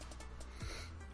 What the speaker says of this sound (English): Can't stop yawning.